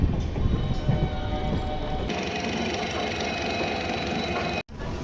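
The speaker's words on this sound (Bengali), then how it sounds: "ট্রেন এখনও ঢুকছে আর কি।" The Tatanagar–Howrah Steel Express rolls into a station with a steady, close rumble of wheels and carriages and a humming engine, ending in a brief abrupt cut.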